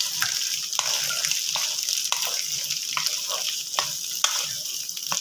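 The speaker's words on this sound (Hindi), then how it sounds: "अब मैं इनको अच्छी तरह मिक्स कर लूंगा।" Boiled chickpeas and cut boiled potatoes stirred together in a bowl for chana chaat, giving a steady wet, sloshing scrape with regular soft knocks of the spoon against the bowl, close and fairly loud, no talking.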